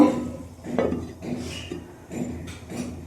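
A metal lid set onto a cooking pot holding eggplant, cauliflower and potatoes, giving a few close clinks and knocks of metal on metal with short pauses between them, alone without speech.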